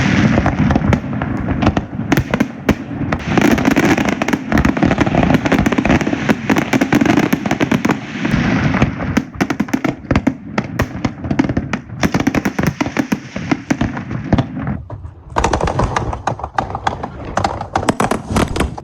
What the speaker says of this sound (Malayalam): ദുബായ് ഷോപ്പിംഗ് ഫെസ്റ്റിവലിൽ വെടിക്കെട്ടിന്റെ ഒരു വീഡിയോ ഒന്ന് കാണിച്ചാലോ?